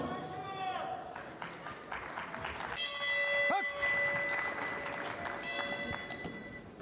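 A ringing bell opens a boxing bout at the IBA Champions' Night in Samara, Russia, sounding bright, sustained tones partway through over steady arena crowd noise.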